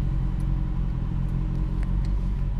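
Motorway traffic rumbles steadily and loudly nearby, with a continuous low engine drone and occasional faint passing-car swells, and no voices.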